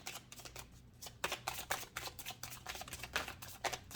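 Oracle cards shuffled and handled during a tarot-style reading, a steady run of quick riffling bursts and papery flutters, close and moderately loud, with no talking.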